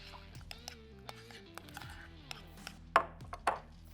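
A metal spatula scrapes and taps on a hot smoker griddle while food is mixed, giving light, irregular clicks and scrapes over a low hum, with two sharper clanks near the end.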